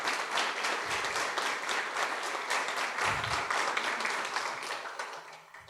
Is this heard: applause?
yes